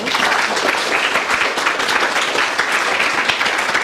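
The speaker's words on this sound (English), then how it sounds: "Can everybody just give our panellists a lovely round of applause?" An audience at a professional talk applauds the panellists, producing a dense, even round of clapping that holds steady for about four seconds without a break.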